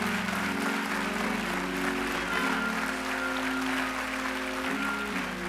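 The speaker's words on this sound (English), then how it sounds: "Everybody, let's celebrate with a great hand clap." Congregation applause and hand clapping at a church service, a dense steady wash of clapping sustained throughout with music or organ tones held underneath.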